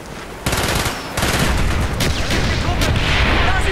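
Mortar and rifle fire in the World War II shooter game Project Nova WWII, loud continuous rattling gunfire with heavy booms, dense and close for the whole stretch.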